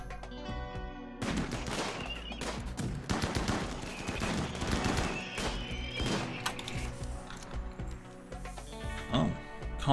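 Gunfire in RimWorld, a dense burst of repeated shots and impacts running nearly the whole stretch over a musical backdrop, with a voice briefly audible near the end.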